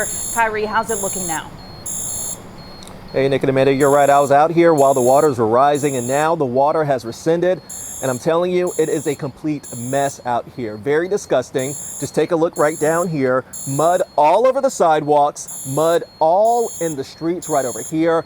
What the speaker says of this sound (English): The fire alarm is going off right out here.